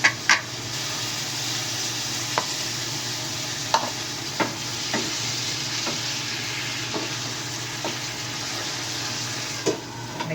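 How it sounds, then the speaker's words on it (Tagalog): Pork adobo sizzling steadily in a pan as soy sauce goes in, a constant frying hiss broken by a series of sharp clicks from the spoon or spatula stirring against the pan. "Ngayon, lagyan natin ng soy sauce."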